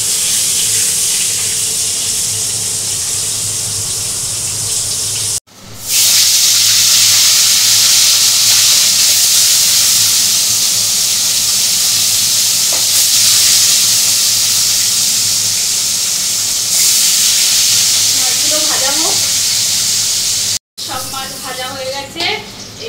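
Small mola fish fry in a pan with a loud, continuous hissing sizzle close by, briefly cut twice, with faint clinks near the end as the fish are turned.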